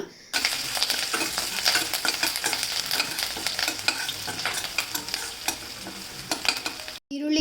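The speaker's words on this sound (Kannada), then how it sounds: "ಕಟ್ ಮಾಡಿರುವಂತಹ ಈರುಳ್ಳಿನ ಸೇರಿಸ್ಕೊತಾ ಇದ್ದೀನಿ ಜೊತೆಗೆ ಎರಡು ಮೆಣಸಿನ್ಕಾಯಿ ಮತ್ತು ಸ್ವಲ್ಪ ಕರಿಬೇವನ್ನು ಕೂಡ ಸೇರಿಸ್ಕೊಂಡು ಚೆನ್ನಾಗಿ ಈರುಳ್ಳಿನ ಎಣ್ಣೆಯಲ್ಲಿ ಫ್ರೈ ಮಾಡ್ಕೊಳ್ಳೋಣ" Chopped onions, two green chillies and curry leaves frying in oil for a snake gourd pitla: a close, continuous sizzle with frequent scraping stirs of the spoon against the pan, interrupted only by a brief pause near the end.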